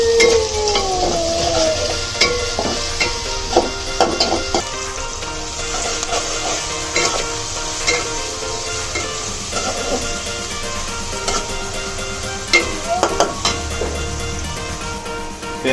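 Onions frying in a pot while beef is cooked with satkora citrus: a loud, continuous close sizzle with repeated stirring clatter and scraping against the pot throughout.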